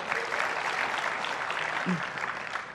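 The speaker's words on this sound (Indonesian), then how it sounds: "boleh tepuk tangan dulu buat Bapak dua ini" Audience applause at a youth forum, a steady wash of clapping from a seated crowd lasting the whole stretch, with a brief murmur of voices underneath.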